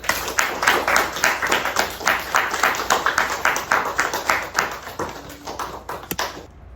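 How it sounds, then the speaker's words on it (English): Applause from a demo-day audience, a steady run of rapid claps that stays loud and even for several seconds before cutting off abruptly near the end. "let's give her a round of applause"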